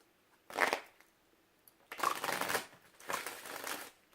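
A tarot card deck is shuffled by hand in three short bursts of riffling and rustling, close and fairly quiet, with pauses between.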